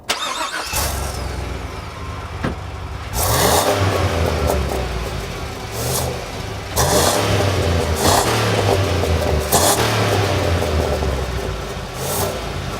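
The 6.2-liter V8 of a GMC Yukon XL starts up and is revved hard several times. Each throaty surge rises and falls back to a deep, rumbling idle, loud and close, with no talking.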